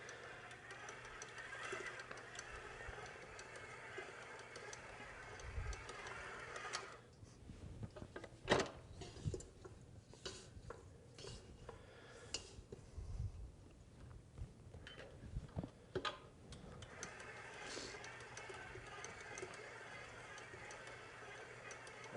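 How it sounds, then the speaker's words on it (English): Stand mixer kneading pumpernickel bread dough, a quiet steady motor hum with rhythmic knocking and thumps as the dough works around the bowl, faint and continuous. "you start your mixer again and just knead it for about 5 minutes"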